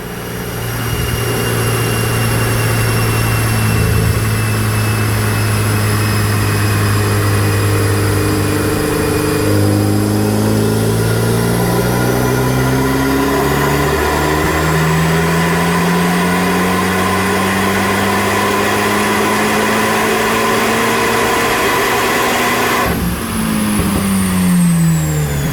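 A 2010 Mitsubishi Evo X MR engine revs hard through a dyno pull, loud and close, its tone climbing steadily with a brief dip near the ten-second mark before rising again, with no talk over it.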